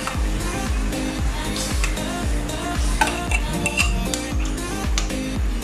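Evaporated milk warms in a pan on the stove with butter melting in it, giving a steady close sizzle under repeated rhythmic stirring scrapes and no talking.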